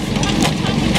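A vintage Westinghouse Rosebery stationary engine, built in Sydney, Australia, chugs steadily while driving a water pump at an outdoor vintage engine rally, a loud, close, rhythmic idle with brief puffs.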